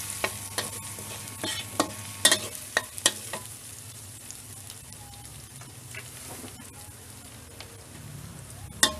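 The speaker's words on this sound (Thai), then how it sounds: "ผัดให้หอมๆ แล้วก็ออกเหลืองๆนะคะ" Food sizzles steadily in a hot pan while a utensil clacks and scrapes against it several times, loudest in the first few seconds.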